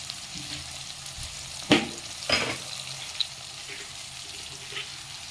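Potato sukhi bhaji, a dry farali potato dish, cooking on medium gas, giving a soft steady sizzle with a couple of brief stirring scrapes and clinks, close and quiet, with no talking.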